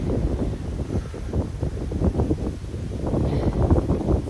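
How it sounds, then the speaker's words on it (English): Steady wind buffeting the microphone, a low rumbling roar with gusty surges that grow stronger toward the end. "Maybe it's that it's the sun's coming up and it's extra windy."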